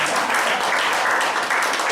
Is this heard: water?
no